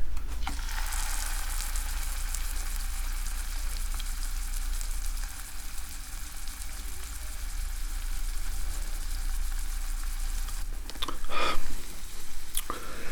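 Fish sizzling in olive oil in a pan, a steady broadband crackle holding throughout with a low hum beneath and a brief louder rustle near the end.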